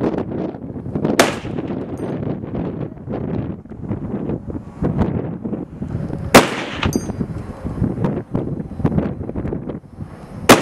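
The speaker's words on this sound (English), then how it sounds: "we're here at our open range shooting with Travis. And he's about to shoot any second" A Barrett .50 caliber sniper rifle fires at an open shooting range in Las Vegas: a few sharp, powerful shots crack out at intervals over constant buffeting wind noise.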